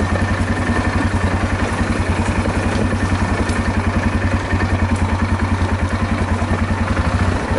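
A four-wheeler ATV engine putters along at a slow crawl, a close, steady rapid thumping beat with mechanical clatter and no talk over it.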